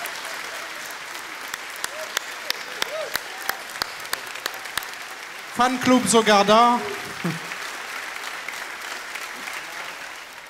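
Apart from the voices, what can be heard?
audience applause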